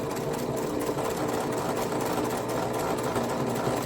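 A Singer sewing machine appliquéing a scrappy double wedding ring quilt, running in a fast, steady mechanical whir with an even needle rhythm, close and uninterrupted.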